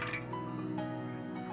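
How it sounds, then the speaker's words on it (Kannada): Water is poured into an idli steamer pot in a home kitchen, a soft, faint liquid splash and trickle against metal over a quiet background. "ನಾವೀಗ ಇಡ್ಲಿ ಪಾತ್ರೆಗೆ ನಾವು ನೀರು ಹಾಕ್ಕೊತಿದ್ದೀವಿ."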